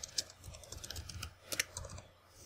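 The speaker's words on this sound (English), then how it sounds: "then type in Vast Uninstall." Light, quick keystrokes tap on a computer keyboard in short irregular runs, close and quiet, with a faint voice in the background.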